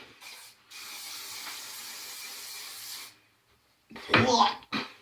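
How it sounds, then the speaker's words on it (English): Hairspray misted onto freshly curled hair, a long steady hiss of about two seconds after a brief first burst, followed by someone speaking. "We're gonna spray it before we do anything else"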